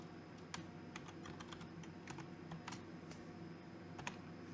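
Computer keyboard typing while entering SAS code for a logistic regression: scattered sharp key clicks in uneven bursts, close and fairly quiet over a steady background hiss, with no voices.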